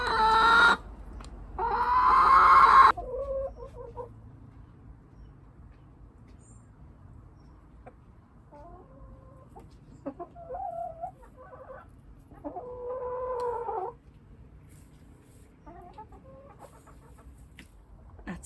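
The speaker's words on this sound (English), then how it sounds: "That's Lillian settling down on her nesting box to give us an egg." A hen named Lillian clucks and squawks while settling onto her nesting box, a loud burst of squawking at first, then softer, intermittent low clucks close by in a quiet coop.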